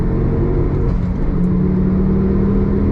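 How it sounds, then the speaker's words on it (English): A Ford Focus ST3 with a 2.5 litre five-cylinder engine holds a loud, steady, deep drone, its pitch rising slightly partway through, heard close and on its own. "5-cylinder engine that goes like a rocket, and it's awesome."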